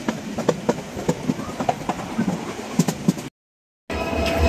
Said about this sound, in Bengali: আমরা কিছুক্ষণ ওয়েট করার পর এই ট্রেনটি ছাড়লো।